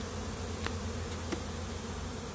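Honey bees buzz around a brood frame in a hive, a dense, steady, fairly faint drone from many insects, with a couple of brief closer passes, heard alone without talk.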